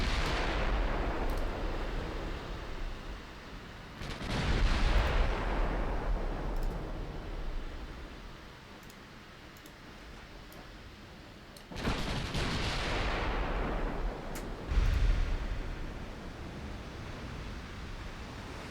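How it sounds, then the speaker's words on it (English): Naval guns fire at a large enemy ship in a Greek extended campaign strategy game, heavy booming blasts arriving in two bursts around five and twelve seconds, each rolling into a long rumbling decay over steady background noise. "This range, you should be firing at the big ship."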